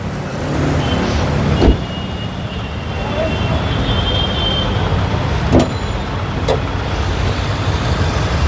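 A Toyota Premio with a 1500cc engine and about 54,000 on the odometer idles steadily with a broad, even rumble. A few sharp clicks punctuate it, and no knocking stands out.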